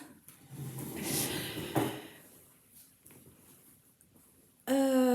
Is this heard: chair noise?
yes